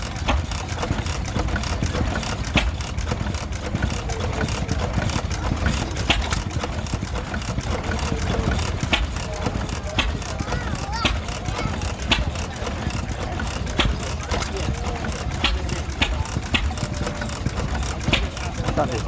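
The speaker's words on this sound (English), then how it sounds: "Aero motor, 8-cycle gasoline engine, made in Illinois," An Aero Motor eight-cycle gasoline stationary engine made in Illinois, USA, drives a water pump and reduction gearbox at an outdoor steam rally, chugging steadily and continuously close by with crowd noise in the background.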